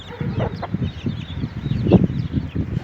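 Bresse chicks cheeping close by, a brief cluster of soft peeps and chirps over a few seconds with some fowl-like clucking.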